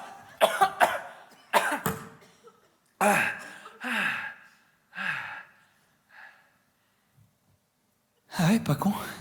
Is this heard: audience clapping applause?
no